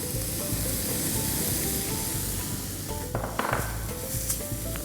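Three-colour capsicum and corn stirred in a hot pan for a quesadilla filling, with a steady close sizzle and a few light scrapes and clicks from the stirring spoon toward the end.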